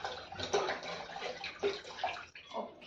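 Water is poured into pithi, a thin Malvani gram-flour curry, making a soft splashing gurgle in short pulses that sits quietly and close.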